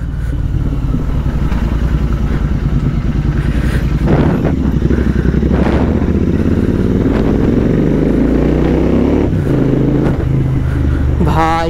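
A Royal Enfield Interceptor 650 twin-cylinder motorcycle engine rumbles loud and close with a deep, steady exhaust note, swelling through repeated revs and throttle blips while someone talks over it.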